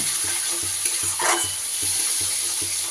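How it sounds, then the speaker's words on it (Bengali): Coriander and cumin powder spice paste sautéing in a pan with a splash of water, a steady close sizzle with soft, rhythmic stirring scrapes repeating throughout. "ধনের গুঁড়ো আর জিরের গুঁড়ো তারই সাথে খুব সামান্য পরিমাণ একটু জল আমি দিয়ে দিচ্ছি না হলে মশলাটা পুড়ে যাবে দিয়ে এবার সুন্দর করে কষিয়ে নেব"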